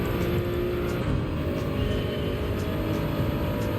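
A Toyota Supra's engine in Gran Turismo 7, a steady sustained drone of the car running at constant speed, loud and continuous with no talk.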